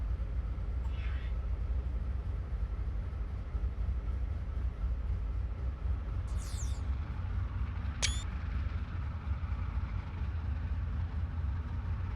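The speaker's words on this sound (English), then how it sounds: "That is a heck of a train." A long Chessie U30C diesel-hauled coal train in a railway simulator rolls past with a steady, loud rumble and wheel noise, broken by a faint squeal and a brief high metallic screech.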